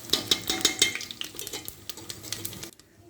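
Dried red chillies fry with panch phoron and cumin in hot oil for vegetable khichuri, a close crackling sizzle under quick metallic clinks and scrapes of a spoon against the pan, cutting off abruptly near the end; no talk.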